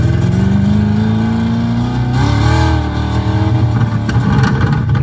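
App-simulated V8 exhaust played through the speakers of a Honda Civic, a deep burbling idle rising into a loud rev and falling back, close and steady inside the cabin.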